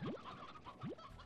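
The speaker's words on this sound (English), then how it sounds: "Old rooster." A rooster in the video game Slime Rancher gives a few quick, soft clucks in short bursts, faint and alone with no talking.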